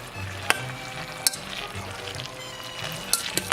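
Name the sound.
adding egg mixture to drained macaroni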